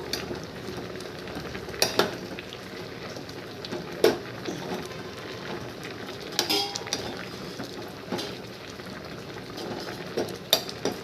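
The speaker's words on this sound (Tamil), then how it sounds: "இப்போ கீரையும் பருப்பும் சேர்ந்து வேகுது நல்லா வேகட்டும்" Brazilian spinach and lentils cooking in a pot, a faint bubbling simmer with occasional clinks of a spoon against the metal pot, heard close with no speech.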